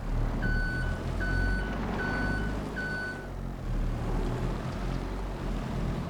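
A forklift in the video game Farming Simulator 22 backs up, sounding four evenly spaced high reversing beeps over a low engine drone before the beeping stops.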